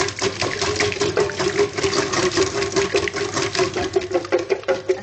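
Steady, continuous whisking of one egg with a pinch of salt for quiche pastry, a dense rhythmic scraping and tapping in a bowl that runs loud and unbroken throughout with no talk.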